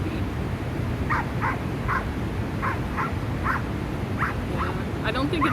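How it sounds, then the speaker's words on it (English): A vocal puppy gives a steady series of short, high yips at roughly even intervals, a few per second, over a constant noisy background. "I think it's just a vocal puppy."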